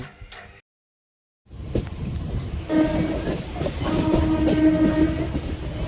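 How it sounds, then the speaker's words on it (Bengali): A train pulls into platform 2 at Naihati station, its rolling rumble and wheel clatter building after a brief silence, with sustained horn-like tones riding over the steady, nearby drone. "আর এদিকে ট্রেনটা ঢোকাচ্ছে 2 নম্বর প্ল্যাটফর্মে"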